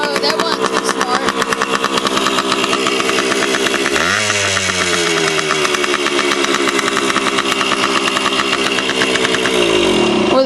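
A Suzuki DS80 dirt bike engine runs close by with a buzzy, rapid two-stroke rattle, dropping in pitch partway through, then holding a steady loud idle-to-rev chatter.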